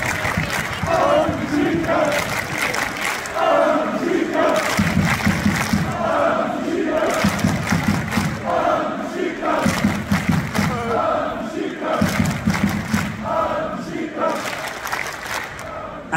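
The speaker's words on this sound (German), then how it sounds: "genieß diesen Applaus, genieß dieses Bad in der Menge" Football fans celebrating a Sturm Graz cup win on a Graz square, a large crowd cheering and chanting in rhythmic surging waves with applause, loud and continuous, with a voice calling out over the crowd.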